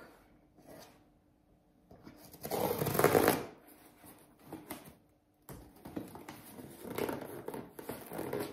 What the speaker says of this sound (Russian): Я получила посылку. Сейчас будем открывать.